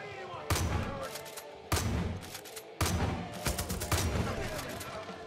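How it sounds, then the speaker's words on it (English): Gunfire in Far Cry 5 comes as several loud bursts of rapid shots with sharp onsets and ringing tails, spaced about a second apart. "It's too late, I just have to shoot this guy."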